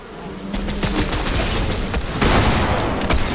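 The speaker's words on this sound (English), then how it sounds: "Blue's just shooting a bee." Rapid video-game gunfire aimed at a bee, a dense burst of shots with faint insect-like buzzing underneath, growing louder toward the end.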